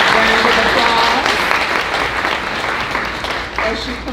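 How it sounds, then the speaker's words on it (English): A loud round of applause from the audience at an emerging leaders commencement greets a presenter coming forward, dense and sustained with crowd murmur and voices underneath, easing slightly toward the end. "Let's give her a warm round of applause"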